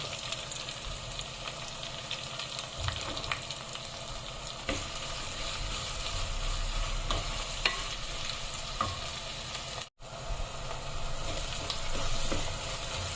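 Green chillies and chopped onions frying in oil in a clay pot for village-style chicken curry, a continuous close sizzle with repeated scraping stirs and a brief drop-out near the end, no voices.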